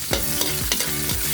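Chicken and garlic sautéing in a pan for a bamboo shoot and chicken dish, a loud close sizzle with four quick rhythmic stirring strokes scraping across the pan in just over a second, no voices.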